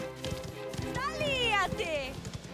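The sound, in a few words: horse galloping in Mafia: The Old Country video game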